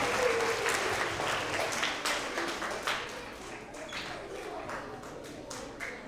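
An elementary school award assembly audience applauds its third grade creative problem solvers: a dense, steady wash of many hands clapping that holds at full strength and then eases slightly, with no talking over it.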